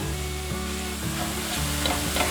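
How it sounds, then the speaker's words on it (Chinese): Diced potatoes stir-fried in a generous amount of oil in a pan, a continuous close sizzle with rhythmic scraping as the pieces are turned over and over, with no talking. "现在慢慢炒，把马铃薯炒至焦黄。"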